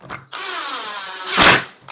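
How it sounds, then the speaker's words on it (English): A cordless power drill runs continuously for more than a second while assembling a plant caddy, rising to a louder, strained burst near the end, close and without speech. "Oh, power tools are so handy."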